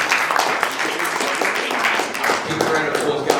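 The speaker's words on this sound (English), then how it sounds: "round of applause going" Audience applause at the close of a marketing conference breakout talk, steady dense clapping throughout with voices mixed in.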